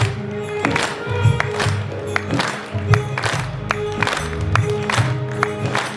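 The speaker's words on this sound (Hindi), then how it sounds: "ताली बजाते हुए" Audience clapping during a Hindi devotional bhajan gathering, rhythmic claps ringing over a steady musical drone and singing, fairly close and even in loudness.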